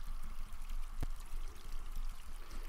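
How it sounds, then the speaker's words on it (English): Steady rushing river ambience from a virtual tabletop game scene plays as a continuous broad wash of flowing water, with one brief sharp tick partway through. "there we're starting to hear the river. The river gets louder"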